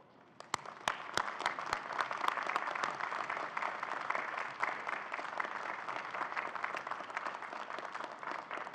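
At an autumn university convocation, a graduating class applauds their families and friends. A few sharp, separate claps start it off, then swell into sustained, even applause from a large crowd in a big hall.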